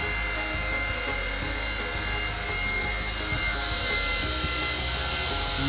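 Small RC helicopter hovering indoors, its rotor and motor giving a loud, continuous, steady whirring drone with no breaks throughout.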